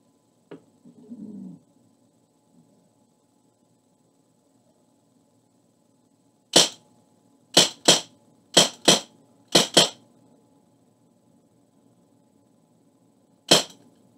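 An Umarex Legends M712 air pistol fires single shots: seven sharp, loud, close cracks, six spaced about a second apart and then one more after a pause, with quiet handling noise at the start.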